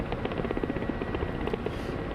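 A Ka-50 Black Shark helicopter in a DCS combat flight simulator game gives a steady, muffled rotor drone with a soft rhythmic chop, continuous and close throughout.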